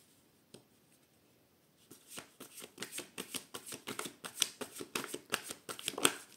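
Oracle cards being shuffled for a reading, a fast run of crisp papery riffles and flicks, close and quiet after a near-silent start, with no talking.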